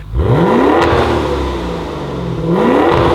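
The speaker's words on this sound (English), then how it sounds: "Previously on Accelerate, we reviewed the 2021 Maserati Levante GTS. Listen to how that thing sounds." A 2021 Maserati Levante GTS engine revs hard and loud, rising in pitch, easing off through the middle, then climbing again as the throttle opens once more, with no talking.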